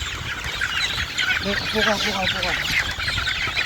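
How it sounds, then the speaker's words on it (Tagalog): Baby chicks cheep in quick high bursts as they are given feed, with the chirping loud and close throughout and a person speaking over it. "ito pakita mo yung mga sisiw natin. Sige, bigyan mo sila ng patuka"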